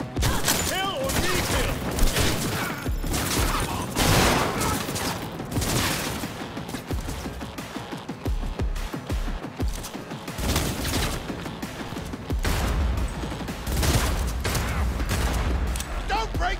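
Sustained gunfire in the video game Cyberpunk 2077, dense bursts of rapid shots and automatic fire crackling almost without pause, loud and chaotic throughout, with shouted commands mixed in.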